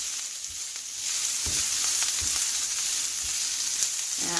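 Loose onions sear in a hot pan for a French onion burger topping, giving a constant bright sizzle with a few soft knocks and stirring scrapes, close and without talk.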